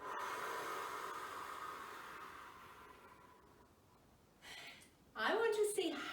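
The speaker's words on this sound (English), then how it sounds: "See if you can blow for a very, very long time." A long breath blown out through the mouth during children's yoga, a sustained airy hiss that slowly fades away before a voice starts speaking.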